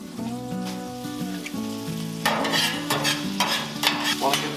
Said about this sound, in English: Let's get some butter down for our hash browns